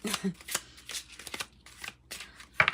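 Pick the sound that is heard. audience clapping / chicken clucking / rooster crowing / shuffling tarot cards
shuffling tarot cards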